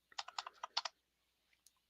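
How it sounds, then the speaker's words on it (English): Fingers typing on a laptop computer keyboard, a quick burst of about eight close, crisp key clicks followed by a pause and a couple of faint stray taps. "I get so used to typing on a real standard size keyboard"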